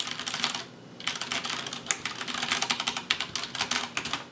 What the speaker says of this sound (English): a quick unboxing of the Leopold Tenkeyless with the Cherry MX brown keyboard